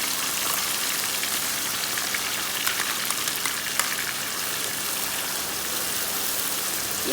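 Mutton liver frying over a high flame in a pan, giving a steady, dense crackling sizzle like heavy rain that runs evenly at moderate loudness through the whole stretch, with a few sharper pops.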